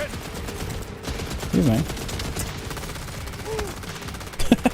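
Gunfire in Borderlands, sharp repeated shots against busy game noise, with a loud cluster of blasts near the end and a voice speaking briefly over the action.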